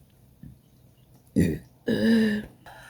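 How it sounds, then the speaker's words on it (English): A person burps twice, a short croak followed by a longer, drawn-out throaty belch, fairly close and loud. "I have a burp and it's stuck."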